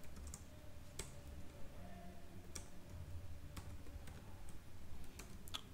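Quiet, sparse keystrokes on a computer keyboard while CakePHP code is typed into a view file, with irregular single clicks and short bursts spaced across a hushed room and no speech.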